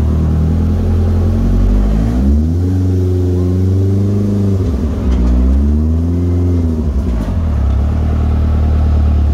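A turbocharged Troy Lee Pro R engine idles loudly and steadily up close, rising in two smooth revs before settling back to a rumbling idle, with no talking.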